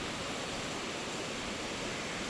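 Creek water at the top of Piney Creek in Fall Creek Falls State Park flows in a steady, broadband rush, soft and continuous with no voices over it.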